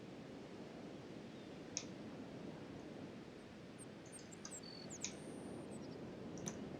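Birds chirp faintly at sunrise in the video game Kenshi, with a few short, sparse tweets scattered over a soft, steady ambient hiss.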